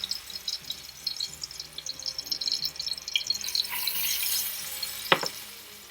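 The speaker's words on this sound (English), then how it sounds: "our tomatoes are just starting to blister" Tomatoes blister and sizzle in a pan with soft, crackling frying noise, joined by light stirring and scraping sounds and a brief sharp clink near the end; fairly quiet and close, without speech.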